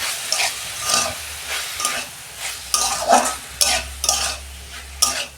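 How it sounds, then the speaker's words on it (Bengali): Greens frying and being stirred in a pan, with repeated bursts of scraping and stirring over a steady low sizzle, close and fairly loud, no talk. "আমি 2 মিনিট ভেজে নেব।"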